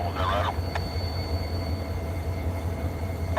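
A CSX freight train running past trackside near a cliff-side railroad spot, a steady low rumble of rolling cars with a faint squeal and a brief high clank, continuous and fairly loud, with no voices.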